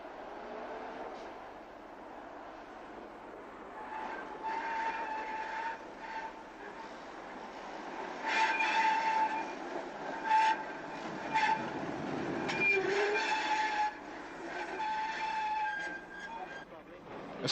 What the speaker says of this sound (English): At Birkenhead, trams operate through a section of the former dock estate.